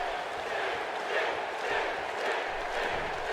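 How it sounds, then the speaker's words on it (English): Arena crowd in WWE 2K17 roaring and cheering at a WrestleMania match, a dense, steady wash of voices that swells slightly without any clear break. "The crowd trying to root for Sting here"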